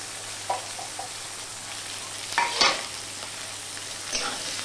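Garlic and onion fry in a pan for ghugni with a steady soft sizzle, broken by a few scraping stirs of a spatula. Fairly quiet, with no talk.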